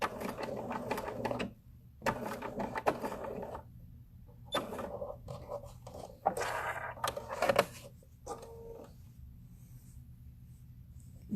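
A sewing machine top-stitches vinyl in several quiet, close runs of rapid mechanical clatter separated by brief pauses.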